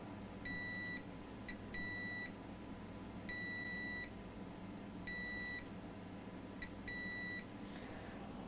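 Multimeter in diode mode beeping during continuity checks on an iPhone 6 Plus logic board with a GPU short, giving six short, clear tonal beeps of varying length at irregular intervals over a steady low background hum.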